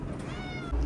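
Kelly, a cat settled in a hotel room, gives a single drawn-out meow up close, a clear rising and falling cry with a low thump at the end.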